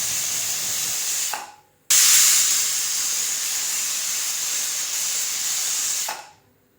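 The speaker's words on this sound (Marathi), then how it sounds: "मध्यम आचेवर आपल्याला कुकरच्या दोन शिट्ट्या करून घ्यायच्या" Loud, sharp hissing of steam bursting from a pressure cooker whistle on medium heat while cooking tomato rice, in two long blasts, each cutting off abruptly.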